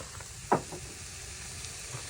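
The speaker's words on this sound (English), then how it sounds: "We're just gonna get this in there with the onions." Hash brown potatoes sizzling with onions in a pan, a soft steady hiss with one brief sharper crackle or scrape early on, fairly quiet and close, with no talking.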